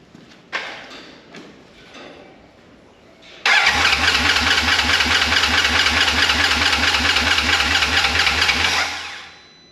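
After a few clunks, a wrecked RZR side-by-side engine cranks close by in a loud steady rhythmic churn for about six seconds, then stops.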